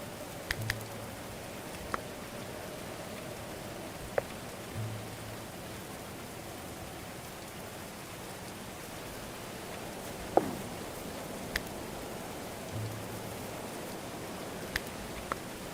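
Rain falls in the medieval colony game Going Medieval as a soft, steady hiss of patter, with faint scattered clicks and a few low muffled thumps.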